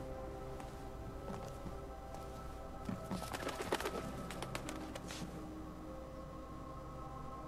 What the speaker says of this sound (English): Is there a pet bird?